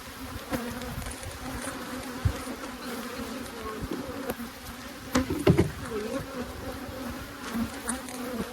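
Honeybees buzzing around an opened hive during hive maintenance: a constant low swarm drone with individual bees zipping close past, plus occasional faint handling knocks.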